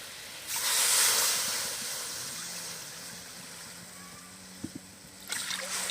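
Water poured into a pan of date palm jaggery for nolen gur rosogolla, a brief hissing splash that fades into a softer gurgle, followed by a couple of light knocks near the end.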